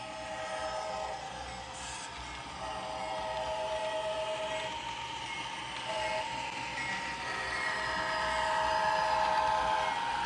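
An Athearn Genesis AC4400 model locomotive runs as a pusher engine, giving a faint, steady electronic diesel rumble with a brief horn-like tone. The sound grows gradually louder as the engine moves.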